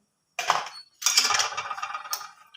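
A spoon clinks and scrapes against a bowl while cream chaat ingredients, including guava and grapes, are stirred together. One short rattle is followed by a longer stretch of mixing, close and clear, with no talking.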